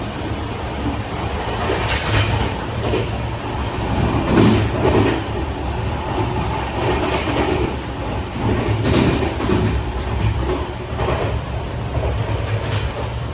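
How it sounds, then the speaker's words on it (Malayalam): A local train runs past Thane station on a rainy day with a loud, continuous rumble and steady rolling rattle of wheels on track, swelling slightly in waves and holding throughout. "ഒരു ലോക്കൽ ട്രെയിൻ പോകുന്നതാണ്."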